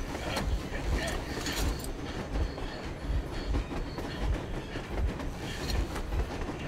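Train rolling along in the game Metro Exodus, with steady clickety-clack wheel rhythm and rumbling carriages, loud and continuous.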